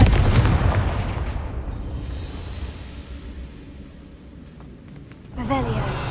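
Fiery Confringo spell blast in Hogwarts Legacy, a sharp booming burst that decays over several seconds, followed by a second thump near the end.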